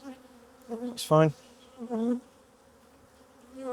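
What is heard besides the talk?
honey bees buzzing in the air after shaking a hive frame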